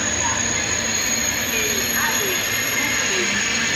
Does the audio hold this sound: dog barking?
no